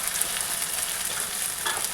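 Ground spices with turmeric fry in hot oil in a pan, a steady close hiss and crackle of sizzling that runs continuously without a break and without voices.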